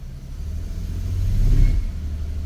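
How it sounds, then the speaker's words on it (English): A Dodge engine with a hard misfire revs under throttle while in drive, a loud, steady low rumble that swells and roughens toward the middle and then eases slightly, heard up close with no speech. "Let me step on the gas."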